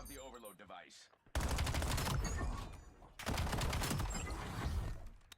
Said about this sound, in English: Hey, the pistol shots are great.